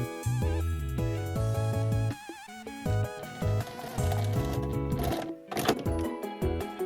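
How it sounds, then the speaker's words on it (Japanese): A sewing machine runs in several short bursts, stitching a zipper tab in place on a patchwork pouch, its motor whirring and stopping with brief pauses between runs. "ミシンで仮止めしておきます。"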